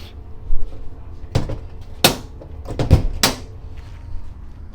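A passenger train door on a Cairo to Alexandria service is worked open with several sharp clunks and bangs, close and loud, spaced over a few seconds against a low rumbling background.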